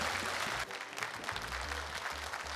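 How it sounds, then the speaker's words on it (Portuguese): A live audience at the Aparecida Sertaneja music show breaks into loud, dense applause, a thick wash of clapping that carries on over a brief moment. "Vamos aplaudir."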